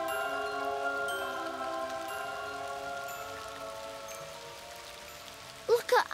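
Cartoon rain falls as a steady, soft patter with layered musical tones beneath it, continuing evenly throughout before a few brief, louder knocks at the very end.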